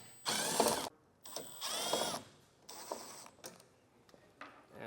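A T15 driver removes taillight screws from inside a 2024 GMC truck bed in three or four short whirring bursts with pauses between them, close and clear.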